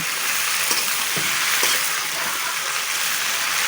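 Pieces of taro root and potatoes sizzle hard in hot oil left over from frying fish, a dense continuous hiss with occasional scrapes and knocks as they are stirred, close up, with no talking.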